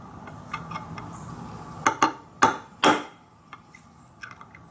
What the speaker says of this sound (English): I don't really like hammering on the tile.